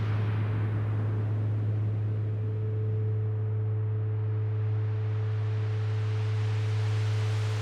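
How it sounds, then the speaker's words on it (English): Two low synthesized sine tones from VCV Rack hum together in a continuous drone, set slightly apart in pitch so they beat against each other, with a faint higher tone and soft noise beneath. "I like to use the lower tone and the upper tone and apart from each other, so you hear beating between these 2 different tones"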